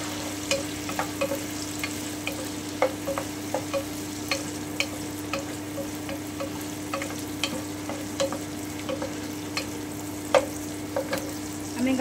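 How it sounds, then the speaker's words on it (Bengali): Cauliflower is stir-fried in a pan for egg fried rice, a soft steady sizzle under a constant hum, with intermittent light clicks and scrapes of stirring. "এবারে আমি ফুলকপিটা দিয়ে দিচ্ছি, একটু নেড়ে নিচ্ছি 2-1 মিনিট"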